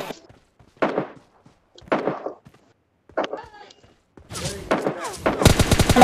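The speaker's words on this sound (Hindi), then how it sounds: "दूर से मेरे को गोलियां पड़ने लगी और मैं नॉक हो गया" Gunfire in the game PUBG Lite: a few separate distant shots spaced about a second apart, then a louder rapid burst of automatic fire, with no talk.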